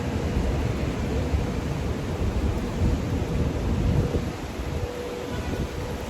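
Heavy rain roars steadily at an outdoor camp in New York City, with deep thunder rumbling through the downpour and easing slightly toward the end; no voices are heard.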